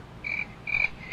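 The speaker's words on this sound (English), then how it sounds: "you got the crickets going" A cricket-chirp sound effect plays as two or three short, bright, evenly spaced trills, clear and close against a quiet background.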